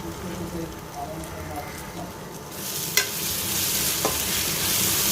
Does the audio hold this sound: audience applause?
no